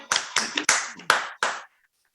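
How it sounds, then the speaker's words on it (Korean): Five sharp, separate claps ring out at a seminar in a hall, spaced irregularly, each with a short echoing tail, then quiet. "뜨거운 박수 부탁드립니다"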